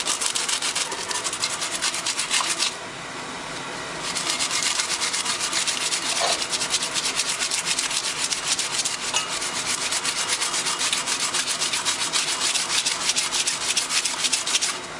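Steady, close scratching of 60-grit sandpaper on a cleaver knife blank, fast rasping strokes running continuously with a brief softer dip early on.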